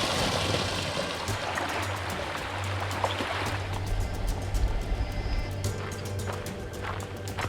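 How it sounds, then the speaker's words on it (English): Steady rushing and splashing of a small waterfall in the Nevada mountains, a continuous broadband roar of falling water heard from close by. "Oh wow, little waterfall."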